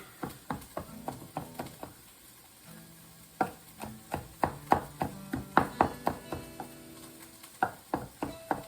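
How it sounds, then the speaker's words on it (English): A knife mincing garlic on a cutting board, quick irregular chops in clustered bursts with short pauses, close and crisp with no talking. "I'm just gonna mince up this garlic right now, get it ready"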